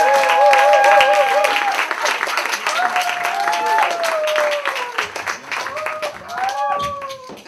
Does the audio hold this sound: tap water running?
no